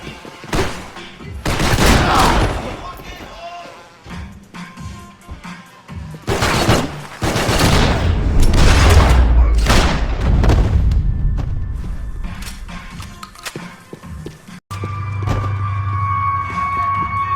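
Heavy gunfire bursts in Max Payne 3, loud repeated volleys and thuds across the scene, with shouted voices between shots and a sudden cut to a quieter humming ambience near the end.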